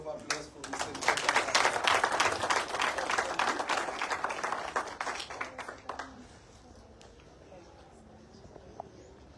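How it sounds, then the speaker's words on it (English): An audience applauds Mr. Mtekanga at a school gathering in Eswatini, with dense clapping for about six seconds that then thins to a few scattered claps, and voices murmur underneath. "A round of applause for Mr. Mtekanga."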